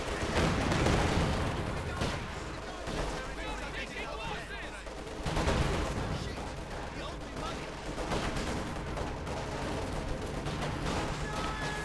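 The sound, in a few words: rifle gunfire in video game Company of Heroes 2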